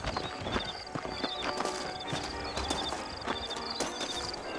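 Steady clip-clopping hooves of saddled horses in the video game Red Dead Redemption moving at a brisk gait, with a faint whinny mixed into the rhythm.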